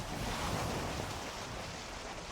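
Broadband ocean surf washing steadily and close by, a continuous rushing roar with some wind noise on the microphone, no voices.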